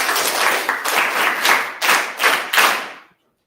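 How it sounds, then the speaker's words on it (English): An audience at an online session with an educator from Romania claps in several quick bursts, loud and close, fading out abruptly after about three seconds. "Claps."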